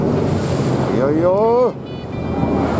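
Steady sea wash and wind roar surround a fishing boat heading out to sea during a boat festival in Japan. The noise is loud and constant, and a short rising voiced call cuts through midway before the rushing continues.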